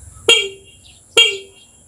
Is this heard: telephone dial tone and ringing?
no